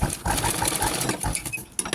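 A small sewing machine stitching a blouse, its rapid, steady mechanical patter running close and continuous with slight variations and brief dips in speed.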